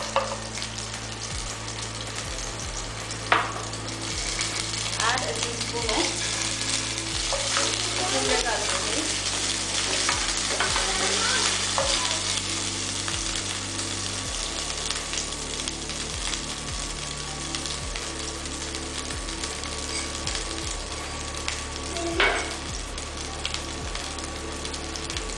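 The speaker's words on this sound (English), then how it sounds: "Fry the spring onion till it" Spring onion sizzles steadily in hot oil in a pan, a dense continuous frying hiss with occasional sharper pops and stirring scrapes, close and fairly loud with no talk.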